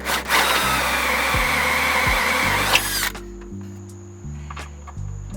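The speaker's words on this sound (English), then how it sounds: "with the drill bit, we're going to make a hole big enough for this thing to fit in there" A power drill runs loudly for about three seconds, boring a hole for an intake part on a BMW E30 with an M20 engine with a high whine, then stops, leaving quieter handling noise.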